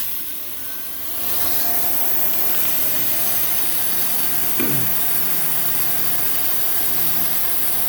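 A Pilot Arc plasma cutting machine switches on about a second in, and its loud, steady, broadband fan-and-air roar then runs without a break. No one speaks.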